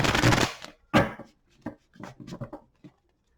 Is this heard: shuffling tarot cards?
yes